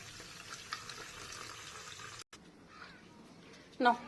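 Water pours from a tap in a steady, close rushing hiss for about two seconds, then stops abruptly. Quieter room noise follows, with a brief louder sound near the end.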